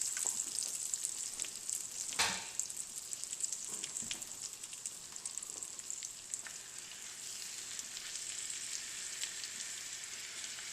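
Sausage and cabbage fry in a pan with a steady, soft sizzling hiss and occasional crackles and pops, quiet and continuous, with no talking.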